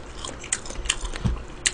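Chewing on spicy fire noodles mixed with oyster mushrooms, close and quiet, with a few soft bites and crunchy chews spread unevenly across a short moment, no talking.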